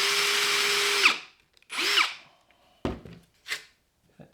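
A power drill whirs steadily for about a second while drilling a hole in wood for a bowl, stops, then spins up again briefly, followed by a few knocks and scraping sounds.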